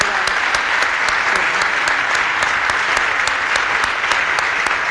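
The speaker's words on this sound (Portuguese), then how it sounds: "uma salva de palmas" Steady, dense applause from an audience at a university event in Lisbon, loud and sustained throughout with no voices over it.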